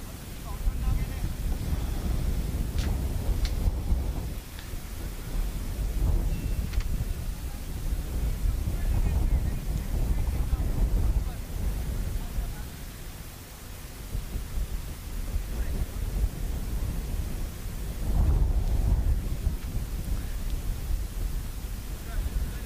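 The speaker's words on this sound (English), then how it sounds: "The wind's picking up at the ground here" Wind gusts across an outdoor cricket ground during a match, a loud buffeting rumble that rises and falls over the microphone.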